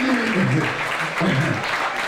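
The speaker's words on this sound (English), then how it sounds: "now let's give Sister Jan a round of applause" Audience applause for a woman called to the front at a talk on demonic influences in music, a steady wash of clapping with a low voice-like hum beneath it.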